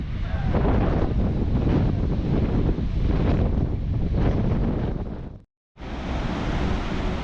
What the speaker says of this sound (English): It's a pretty windy day. I don't have a wind guard, so I wedged some napkins in there.